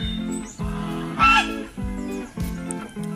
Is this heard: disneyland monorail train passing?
no